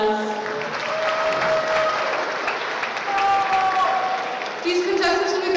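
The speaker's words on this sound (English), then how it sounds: "Let's give those dancers a big round of applause." Loud, steady audience applause for dancers at a school prom fashion show, sustained clapping throughout with crowd noise and a few cheers or whistles.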